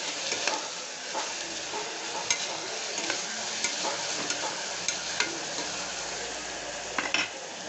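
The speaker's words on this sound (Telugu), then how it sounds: "అల్లం వెల్లుల్లి పేస్ట్ వేసి కలుపుకుందాము." Ginger garlic paste sizzling and frying in a pan while a utensil stirs it, soft scraping clicks recurring irregularly over a steady hiss, close and fairly quiet, no voices.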